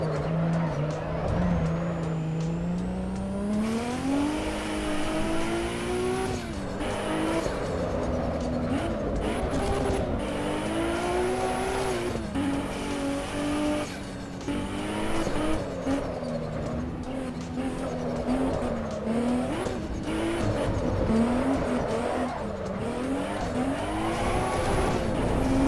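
Race car engine in the sim racing game Assetto Corsa EVO, a loud continuous whine that rises and falls through gear changes, with faint tire squeal, close and steady for the whole stretch.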